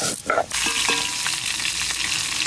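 Steady, dense sizzling of potatoes frying in hot oil, with a few brief stirring scrapes near the start; close and continuous.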